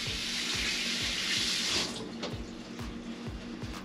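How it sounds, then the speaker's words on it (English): Tap water runs steadily into a sink while raw chicken is rinsed, a close, continuous splashing stream that softens slightly toward the end, with no talking. "And now, let me do a quick rinse."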